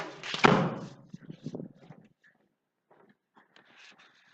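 A door in a student residence opens and closes near the start with a loud thump, followed by softer knocks and shuffling, then near quiet with a few faint rustles.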